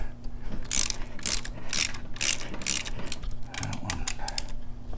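Ratchet clicking in quick bursts while loosening bolts on a Harley Sportster primary cover, with a steady low hum beneath the close, repeated pawl clatter.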